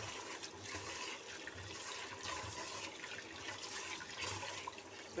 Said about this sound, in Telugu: బియ్యం కడుగుతున్నా.